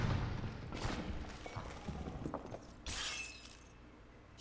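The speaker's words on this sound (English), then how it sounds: "It just shatters." An enemy figure in the Superhot video game shattering like glass, several crisp breaking and splintering bursts with a bright, loud crash of shards near the end, no talk over it.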